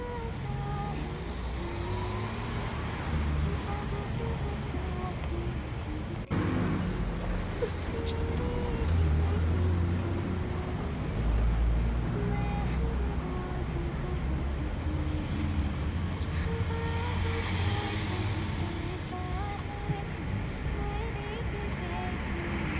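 A car moves through busy road traffic in a Hindi dubbed comedy film scene. A steady rumble of engines and roadway noise runs throughout, with voices talking over it.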